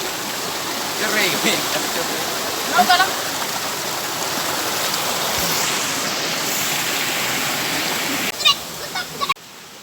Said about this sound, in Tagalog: nakakita kami ng isang ilog ulit